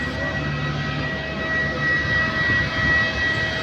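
Inside an airplane cabin, the aircraft engines give a steady, close drone with a constant whine and low rumble, no voices.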